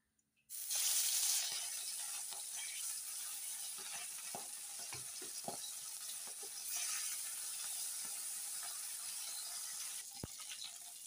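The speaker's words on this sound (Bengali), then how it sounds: "তেলটা গরম হয়ে গেছে, এখন মাছগুলো আস্তে আস্তে ছাড়বো।" Koi fish coated in mustard oil and salt being slipped into hot oil, a loud dense sizzle that starts abruptly and holds steady, with small pops and occasional utensil clicks.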